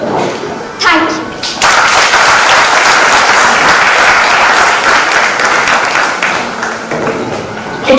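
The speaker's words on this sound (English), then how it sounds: "Audience, give them a huge round of applause." Loud, sustained crowd applause swells in after a moment and continues steadily, dense and close, with some voices mixed into the clapping.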